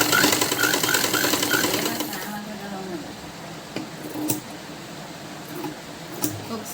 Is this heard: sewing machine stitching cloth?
yes